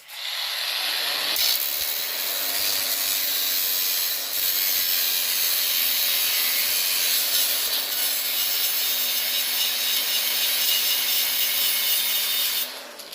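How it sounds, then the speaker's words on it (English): A power grinder cuts the top off a metal part clamped in a vise on a 4.0-litre Jaguar XJ40, a loud continuous harsh hiss-whine that holds steady for over ten seconds before stopping. "But first I'm going to grind the top off it."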